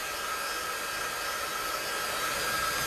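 Hair dryer blowing steadily on watered-down paint over tissue paper, a constant close whooshing roar with an even hiss throughout and no pauses.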